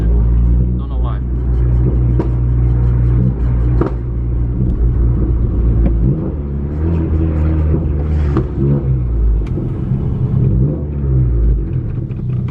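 A 10th gen Honda car driving and accelerating, a steady low engine rumble and road drone heard from inside, with someone talking over it throughout.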